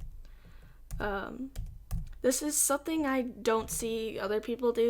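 Computer keyboard keys tapped while stepping between animation keyframes in Toon Boom Essentials, a few quick clicks up close, mixed in under steady talking.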